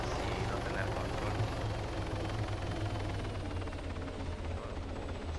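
A video game helicopter drones steadily throughout, its rotor and engine noise loud, close and unbroken.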